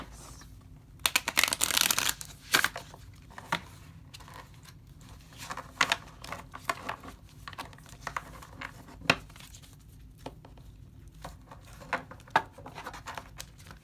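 Tarot cards being shuffled by hand at a reading: soft, irregular riffling and flicking, busiest early on, then scattered light taps and slides, close and quiet.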